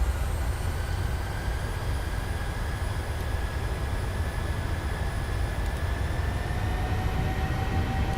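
Airliner jet engines hold a steady, loud roar at takeoff thrust in Microsoft Flight Simulator, a dense broadband rumble with faint rising whines layered on top, continuous with no speech.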